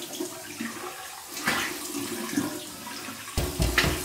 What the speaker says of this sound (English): So now that I have all that slickness off, I'm going to do my cold water rinse